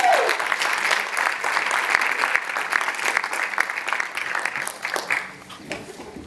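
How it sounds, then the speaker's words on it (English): Comedy club audience applauding as a stand-up comedian is introduced, a loud burst of clapping and some cheering that gradually thins and fades toward the end. "If you guys could just refrain from applauding for the rest of my set"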